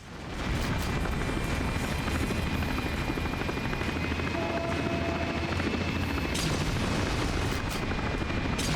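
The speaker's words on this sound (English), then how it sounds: "Helicopter fight." A helicopter hovers with a loud, steady rotor drone during a GoldenEye: Rogue Agent fight. A thin whine runs throughout, and sharp gunfire cracks break through near the end.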